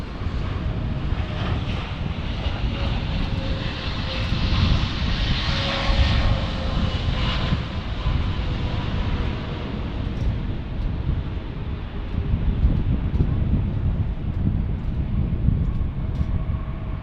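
An Eva Air Cargo heavy cargo jet at DFW International Airport roars steadily and loudly throughout, a broad, continuous engine rumble with no speech.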